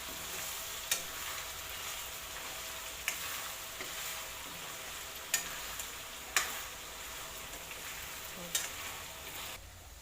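Garlic and ginger paste fries in oil for a homemade chicken pickle, giving a steady soft sizzle with occasional sharp ticks and clinks of stirring.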